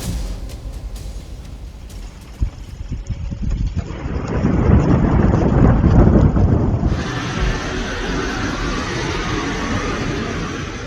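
A deep rolling thunder rumble swells and fades over a continuous rush of heavy rain, with no voices.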